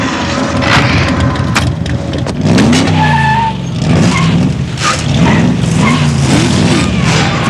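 A high-performance race car drives hard, its engine loud and close throughout, revving up and down through gear changes with tyre noise and occasional sharp cracks.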